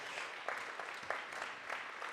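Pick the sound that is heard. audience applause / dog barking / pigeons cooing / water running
audience applause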